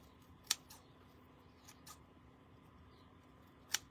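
Paper being cut with scissors at a crafts table where bunnies are painted: a few sharp, isolated snips, two clear ones near the start and end, faint and close with quiet room noise between.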